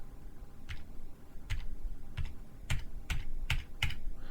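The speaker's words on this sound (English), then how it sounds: "I'm just using tab on the keyboard." A string of single presses on a keyboard's Tab key, close and crisp, spaced unevenly about half a second apart, with no one talking.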